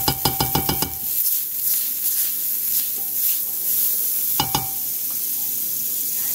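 Margarine sizzling in a frying pan for French toast: steady close frying hiss with a few metallic knocks of a utensil against the pan at the start and midway.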